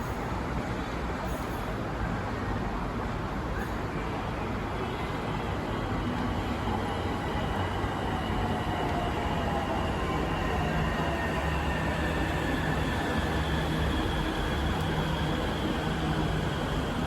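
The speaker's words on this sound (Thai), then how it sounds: "รถไฟฟ้าเข้ามาแล้วครับ" An MRT Purple Line electric train pulls in near the depot on the Khlong Bang Phai–Tao Poon line in Bangkok, a loud continuous rolling rumble and hiss of wheels on rail that persists throughout without talk.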